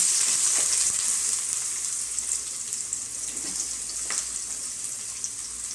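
Onion and spices such as clove and cardamom fry in hot oil with a steady, bright sizzle close by, a few faint clinks and stirring sounds over the hiss, and no talking.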